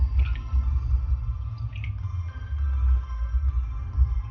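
Water drips and squishes out of freshly made paneer as it is squeezed by hand, soft and intermittent over a low background rumble.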